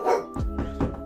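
A dog gives a few short barks in quick succession, close and fairly loud, over about a second.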